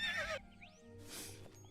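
A horse neighs loudly in a video game, a shrill whinny up close at the start, followed by a second, rougher neigh after a short pause, with faint game ambience throughout.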